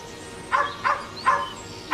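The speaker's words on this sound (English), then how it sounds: "He only barks with a change in the weather." A single dog barks in four short, fairly close bursts spaced about every half second, the barks sharp and mid-loud over a quiet background with no talk.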